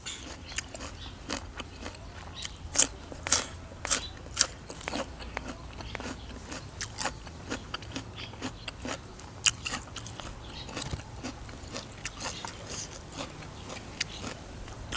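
Crunchy bitter gourd eaten with squid and spicy seafood dipping sauce: close, crisp bites and chewing crunches repeat irregularly for the whole stretch, soft between sharper snaps, with no talk.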